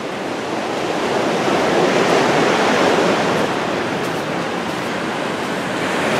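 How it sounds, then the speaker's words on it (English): A small waterfall on the Oregon coast pours steadily, a constant broadband rush of falling water heard up close with no break across the moment. "there's another little waterfall over here"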